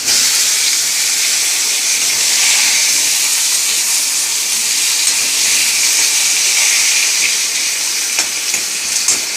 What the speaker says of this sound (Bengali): দিয়ে দেবো কালো জিরে ফোড়নে, আলুগুলো দিয়ে দেবো।